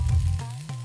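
Pre-boiled Ching's veg hakka noodles sizzle in a hot pan for veg chowmein, starting with a loud low burst and then settling into a softer sizzle, with a quick stir near the end.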